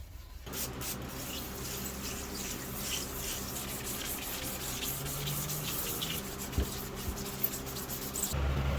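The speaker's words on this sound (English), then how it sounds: "So I'm gonna wet sand it." Steady wet rubbing and scraping with a watery, gritty texture as fine sandpaper wet-sands a 1970s Japanese SG-style bass guitar body, continuous and close, with no talking.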